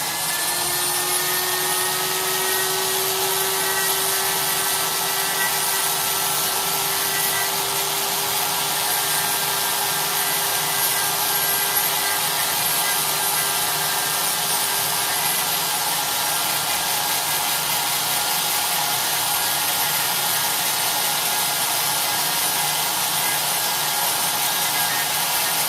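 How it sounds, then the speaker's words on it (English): A flex shaft grinder works a silver ingot, giving a steady, loud high-pitched whirring hiss with a fading tonal whine across the whole stretch, continuous and without talk. "start grinding on it. So I just take my flex shaft"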